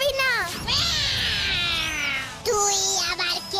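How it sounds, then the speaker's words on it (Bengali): A cat gives a drawn-out, wavering meow close up, then a second shorter meow follows after a brief pause. "এই হলো বিড়াল"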